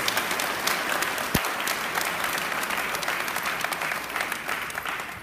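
Sustained applause from an audience at a gathering in the Canada Kandaswamy Temple in Toronto: dense, steady clapping that fills the room for several seconds, with one sharp louder clap standing out near the start.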